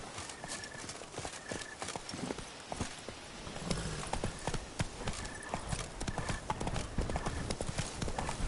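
Hooves of Roach, a horse in a video game, clip-clop in a brisk steady trot, close and loud over a faint background ambience.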